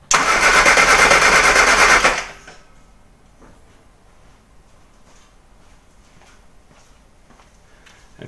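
Morris Mini Cooper engine cranking over on the starter during a compression test, a loud dense churning burst for about two seconds that cuts off into quiet with faint ticks.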